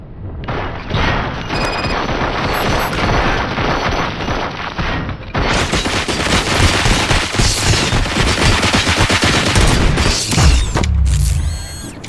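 Loud, dense gunfire in the Robocop Rogue City video game: sustained rapid bursts and booms with mechanical clatter, running almost without pause and alone, with no talk over it.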